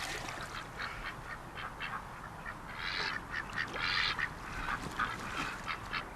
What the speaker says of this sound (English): The duck we just released